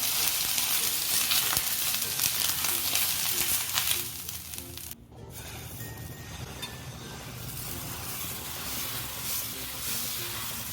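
Fasting dosa batter made from an upvas premix fries on a hot ghee-greased non-stick tawa, a close, steady crackling sizzle that thins after a brief clink midway and continues as a softer hiss.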